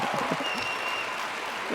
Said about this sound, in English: press the applause button